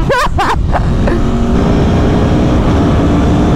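A 2022 Aprilia Tuono V4 Factory 1100 motorcycle accelerating on a highway, its engine briefly climbing in pitch through quick revs before settling into a loud, steady rush of engine drone and wind roar.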